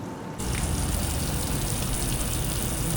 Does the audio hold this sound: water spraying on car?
yes